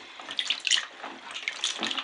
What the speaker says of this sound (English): So I'm going to give these a little soak in regular water for a couple of minutes.